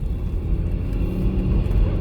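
A VW Touareg 2.5 TDI with air suspension is on the move, heard from inside. The engine and road make a steady low rumble that swells slightly, with no speech.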